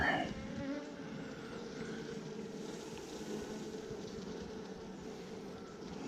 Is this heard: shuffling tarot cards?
no